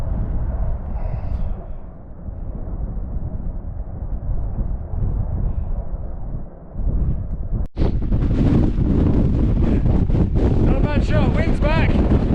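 Strong wind buffeting the microphone on an open hillside along the Beacons Way in Wales, a constant heavy roar that surges louder partway through, with brief breathy vocal sounds under it.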